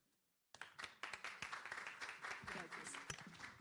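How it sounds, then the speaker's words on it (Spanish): Following a brief near-silence, an audience at a youth forum on the Senate bursts into applause to welcome a professor, lively clapping filling the room. "Adelante, profesora, un fuerte aplauso."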